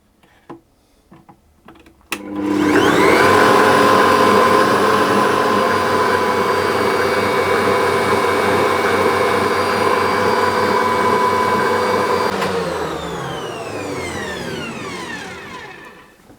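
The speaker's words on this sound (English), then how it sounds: "I'm going to whisk those together on a high speed for about 5 minutes." An electric mixer whisks eggs and caster sugar at high speed, starting with a few clicks, then a loud steady whirring drone that holds for about ten seconds before winding down.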